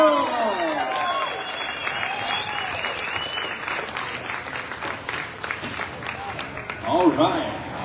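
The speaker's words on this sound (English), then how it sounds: "Let's give all of our competitors another big round of applause." Clapping spreads through a crowd at the final of the 2025 U.S. Sheep Shearing Championships, steady and dense for several seconds, with an announcer's voice over the start and a brief loud burst near the end.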